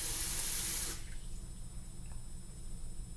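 Water poured from a running tap for artisan bread dough, a loud steady close rush that stops after about a second, leaving faint kitchen room noise.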